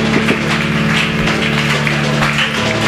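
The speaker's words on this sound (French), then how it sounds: "Merci par nos acclamations" A church congregation applauding during a sermon of praise and thanks, giving a steady, dense wash of loud clapping throughout that is close and full, with no clear break.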